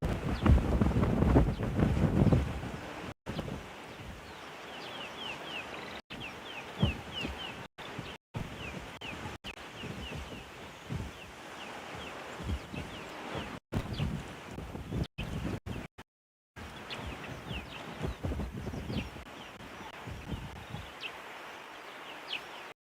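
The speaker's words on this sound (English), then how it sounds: "you can hear the wind." Strong wind gusts on an evening safari before a storm, buffeting the microphone in uneven waves, with faint bird calls breaking through now and then and no voices.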